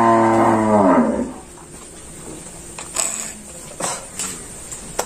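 Cattle on a farm moo once, loud and close, followed by quieter farmyard clatter and faint tapping noises with no voices.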